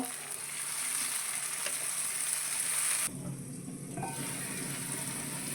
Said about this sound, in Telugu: ఉల్లిపాయ వేగిందండి టమోటా ముక్కలు వేస్తున్నాను